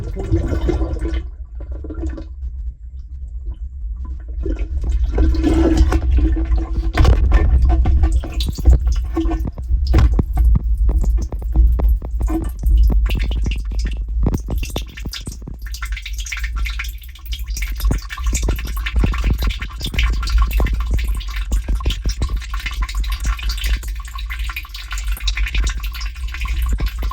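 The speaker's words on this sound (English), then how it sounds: "So now we're gonna go ahead and put it underwater." A Milwaukee PACKOUT tool case being pushed underwater gives loud, close sloshing, splashing and dripping with irregular gurgles throughout, and no talking.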